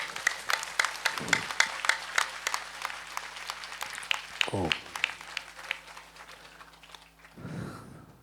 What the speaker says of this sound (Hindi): मैं आप सभी मातृभक्तों से निवेदन करता हूं कि जोरदार तालियों से स्वागत करें